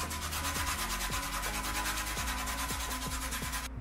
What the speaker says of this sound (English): I'm gonna grate this lemon